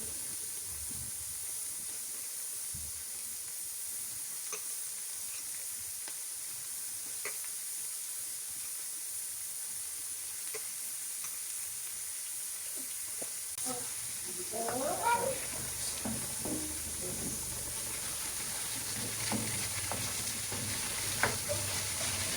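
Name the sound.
liver frying and sizzling in a pan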